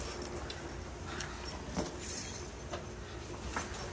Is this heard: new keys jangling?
yes